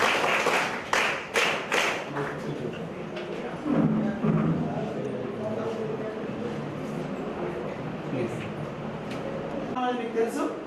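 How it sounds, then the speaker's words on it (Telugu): A group of people playing a tower-building business game clap their hands in a short burst of sharp claps near the start, followed by a murmuring room and voices talking. "వాళ్ళకి ఒకసారి క్లాప్స్ కొట్టండి."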